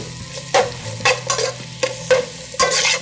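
Macaroni stirred in a pan with sautéed capsicum and cabbage, a spatula scraping in uneven strokes roughly every half second over a soft sizzle, close and alone without voices.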